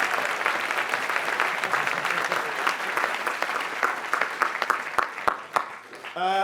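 A studio audience gives a round of applause on an antiques and collectables television show, a full, dense burst of clapping that thins into scattered separate claps before cutting off.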